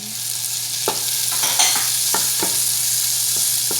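Garlic and tomatoes fry for beef bukhari with a bright, steady hiss, while a utensil scrapes and taps against the pan every so often. The sound is close and there is no talking.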